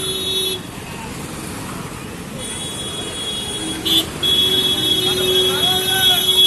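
Loud, continuous traffic at the Mysore clock tower circle, with several car horn toots over the rumble of passing vehicles and a voice talking.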